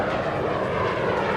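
A Harrier jump jet descends in a vertical landing with its nozzles pointed down, giving a loud, continuous engine roar that stays steady and close throughout, with no talking.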